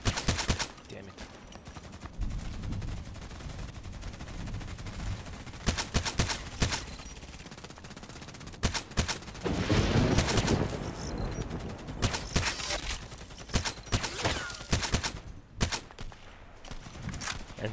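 SKS sniper rifle shots in a first-person shooter, sharp cracks fired in irregular clusters over a steady background of battle noise, some shots loud and close, with a denser burst of overlapping fire near the middle.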